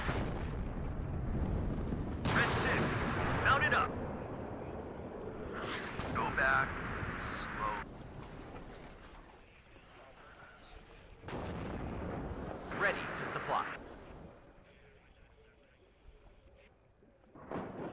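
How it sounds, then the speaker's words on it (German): Booming artillery fire in the Cold War strategy game WARNO, with several heavy, rumbling bursts spread across the stretch, some near and loud, others duller, layered with battle ambience while someone talks over it. "dann können wir aber dort den Offizier mit der Artillerie beschießen"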